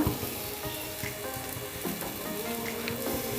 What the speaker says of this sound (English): grease some oil or butter, and then spread it on the tawa